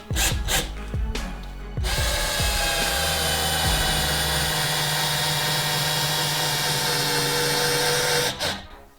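A Dexter Power 14.4V cordless drill strains to drive a giant 10x240mm screw into wood: a few short motor bursts, then a steady, loud whirring grind lasting several seconds before it stops.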